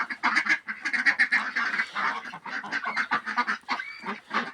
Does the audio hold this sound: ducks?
yes